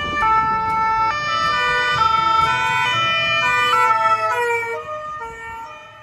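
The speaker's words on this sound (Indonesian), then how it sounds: "Ini ada mobil ambulans." An electronic toy ambulance siren wails in a fast, stepped pattern of pitches, loud and close, then fades slightly toward the end.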